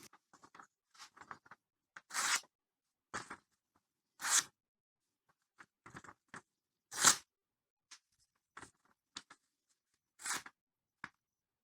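A freshly belt-ground knife slicing a test material gives short scattered crunching cuts, several sharp bursts with quiet gaps between them, close and fairly quiet, with no voice.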